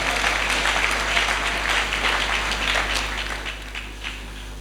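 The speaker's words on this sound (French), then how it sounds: "Est-ce qu'on peut acclamer la parole de Dieu?" A church congregation applauds after a sermon reading, with close, dense clapping that holds steady, then thins and fades away over a low hum.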